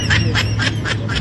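A duck quacks five times in a quick, evenly spaced series, loud and close, with no talking.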